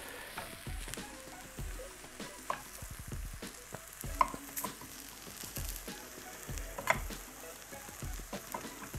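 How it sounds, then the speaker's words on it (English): Tempeh chopped with a knife in a frying pan for a vegan rogan josh, irregular clacking knife taps over a soft sizzle of frying. "Oh, let me chop that in half actually."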